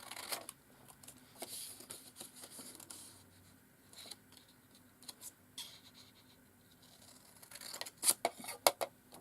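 Scissors snip through paper pieces in short, quiet scratchy cuts, with a few sharper, louder snips near the end, in a die-cutting and embossing craft setting.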